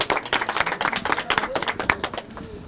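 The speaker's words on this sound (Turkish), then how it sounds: "Murat Bey'e alkışlarınızı almak istiyorum." Guests at a curtain accessories shop opening in Konya applaud a company chairman, dense, steady clapping from a small crowd with faint voices mixed in before it thins toward the end.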